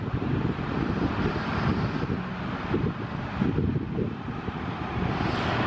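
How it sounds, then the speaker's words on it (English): Strong wind gusts buffet the microphone outdoors on a snowy Halifax street, a loud, continuous rumbling roar with no speech. "Might not be able to hear me too well because it's pretty windy."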